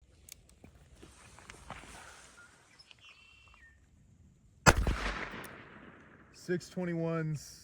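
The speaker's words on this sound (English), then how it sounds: "go ahead and shoot through a chronograph and then interpret the results" A Webley Mk IV revolver loaded with .38/200 rounds fires a single sharp, loud shot outdoors through a chronograph, rising out of quiet ambient noise. Electronic beeps follow, and voices are heard toward the end.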